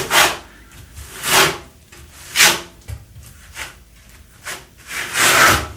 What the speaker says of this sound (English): Quick skim coat. Make sure all the edges are completely covered.